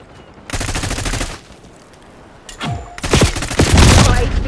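Gunfire in a Call of Duty Black Ops 6 multiplayer match in Bulgaria: rapid automatic bursts rattle out in a long volley, then a whooshing sweep leads into heavier, louder sustained fire.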